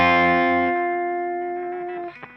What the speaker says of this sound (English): Back to these notes here with the distortion off and the chorus on